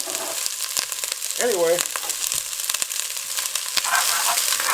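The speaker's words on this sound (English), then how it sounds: "I'm going to stir this around a little bit so the onions get coated with the olive oil" Diced onions sizzle in olive oil in a pan for chili, a steady close frying hiss with scraping stirs and a brief squeaky sound, while someone speaks briefly.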